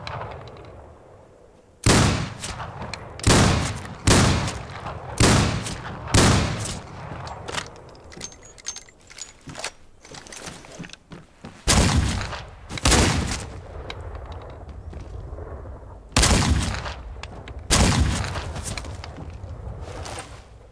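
Rifle shots fired at a miner in the video game Outlaws of the Old West, a series of loud sharp cracks spaced a second or two apart, with a few louder clusters, no talk.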